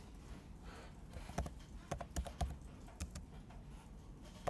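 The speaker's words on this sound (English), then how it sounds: "So I come to Bloomberg and I can start typing in here" Sparse, faint keystrokes on a computer keyboard while entering a search into Bloomberg software, a handful of separate clicks over a quiet room hum.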